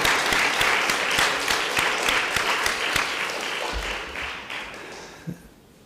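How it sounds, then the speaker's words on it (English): Audience at a primary school graduation applauding the parents, a steady wash of many hands clapping that continues for several seconds, then tapers off with a final stray clap. "Now you applaud your parents"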